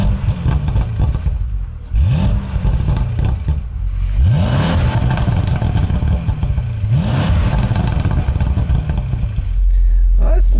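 A 2019 Bentley Continental GTC V8 convertible pulls away, its engine revving up through three or four rising gear pulls, loud and close, with speech over it.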